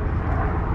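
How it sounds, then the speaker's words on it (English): A helicopter flies overhead, heard as a brief, dense low rumble of rotor and engine noise that is fairly loud and steady, with no talking. "Helicopter."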